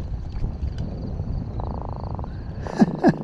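A croaker fish pulled from the water off Ocean City, Maryland, gives two short, close grunting croaks near the end, over steady outdoor background noise.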